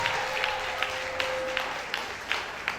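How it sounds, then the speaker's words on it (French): Audience applause at a stage performance: scattered, evenly spaced claps ring out over a steady murmur and a faint sustained tone, fairly soft and distant throughout. "s'applaudir s'il vous plaît."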